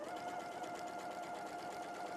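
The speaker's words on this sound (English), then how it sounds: "I'm going to sew down the lines that I've marked" A sewing machine runs steadily, stitching down marked lines on a small fabric piece, with a close, even hum throughout and no pauses.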